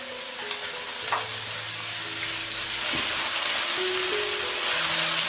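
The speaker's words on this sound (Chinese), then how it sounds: "再重新起锅热油，把我们的蒜末跟青红椒放进来炒香。" Minced garlic with green and red peppers stir-fries in hot oil, making a loud, dense, continuous sizzle close up, with faint steady tones in the background.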